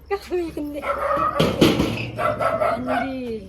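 Dogs bark at night near a village home, a short cluster of barks mixed with whimpering yips under people talking close by.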